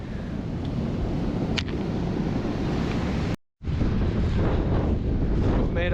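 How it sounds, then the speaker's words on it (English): Waves rolling in on the Scottish coast during Storm Ashley, a continuous broadband roar of surf buffeted by heavy wind across the microphone, loud and close, with one brief dropout partway through. "Wow, look at these waves coming in."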